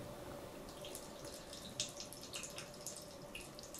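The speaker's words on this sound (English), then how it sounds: "Water drips, sounds like someone peeing, but this is a water drip, splash bathtub." A water drip and bathtub splash sound effect: scattered small drips and light splashes over a soft, quiet wash of running water.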